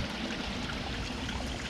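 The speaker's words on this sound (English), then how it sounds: "So this seems like a small waterfall here." A small waterfall of water trickling from a tree splashes in a steady, even wash, close and moderately loud with no voices.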